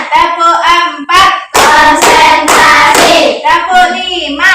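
Children in an elementary school classroom clap their hands in a rhythmic clapping game, loud bursts of claps in short patterned groups with chanted voices mixed in.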